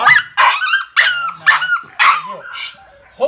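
A two-month-old American Staffordshire Terrier puppy growls and yips in about six short, loud, close bursts, its high-pitched voice rising and falling in quick succession.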